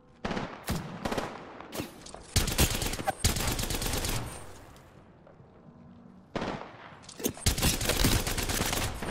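Bursts of automatic gunfire and rapid single shots crack loudly in an Apex Legends match, coming in dense volleys with a lull in the middle before the firing resumes.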